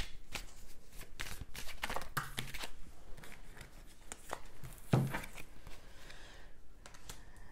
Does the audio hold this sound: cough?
no